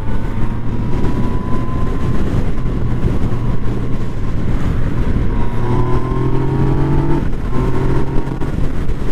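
A 2017 Yamaha FZ/MT-09 motorcycle ridden in standard mode, untuned: a loud, steady engine drone with rushing wind noise, its pitch sliding up and down slightly as the rider cruises.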